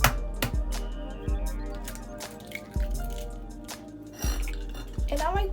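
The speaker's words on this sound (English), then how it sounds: "I'm gonna start off by cracking my eggs." Two eggs cracked into a bowl: sharp taps and cracks repeat every second or so, with wet drips and clinks of shell and dish in between, fairly close.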